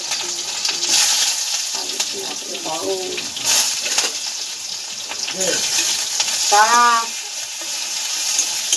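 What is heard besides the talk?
frying vegetables with panch phoron spices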